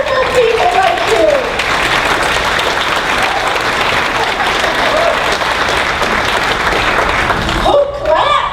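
Sustained audience applause fills a hall during a speech at an Act for America event, a dense steady roar of clapping lasting several seconds, with a speaker's voice briefly heard before it swells and again as it fades.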